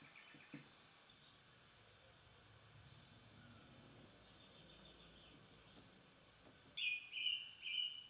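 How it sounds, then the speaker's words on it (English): A song thrush sings near the end, a loud bright burst of repeated short phrases, about three in quick succession, after a long stretch of faint, quiet background. "It's a song thrush. It's repeating phrases together."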